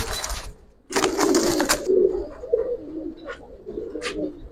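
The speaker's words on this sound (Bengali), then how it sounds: "আসলে কবুতর তো অনেক সাইজের কবুতরই আছে" Giribaz pigeons cooing close by, a few soft throaty coos in short bursts over a low background, with no talk.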